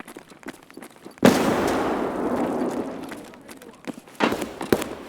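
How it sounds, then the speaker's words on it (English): A grenade bursts in Escape From Tarkov with one sharp, loud blast, followed by a long decaying rumble and scattered sharp cracks as a player talks over the quiet stretches. "I'm throwing a nade"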